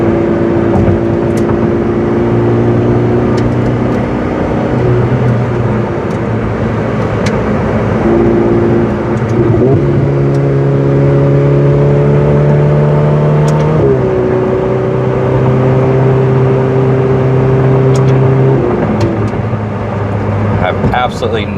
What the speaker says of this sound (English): Kind of listen to the car and hear the shifts.